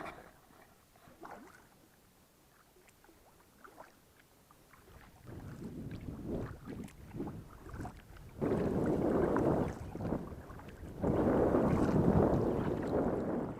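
A canoe paddled through a small stream, quiet at first, then swelling into broad, rushing water strokes and splashes in loud bursts, close to the microphone, with no talking.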